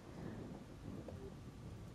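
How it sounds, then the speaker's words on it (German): Thunder from a thunderstorm in the game Fall of Porcupine, a steady low rumble with rain-like hiss that stays dense and unbroken throughout, with no voices. "Ich möchte nicht im Gewitter spielen."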